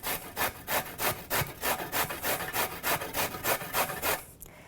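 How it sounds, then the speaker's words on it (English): Carrot rubbed rapidly against a cheese grater for a fine slaw, a steady run of about a dozen rhythmic rasping strokes, close and fairly loud, with no talking. "Now we want this to be a slaw, so I'm gonna use that cheese grater again."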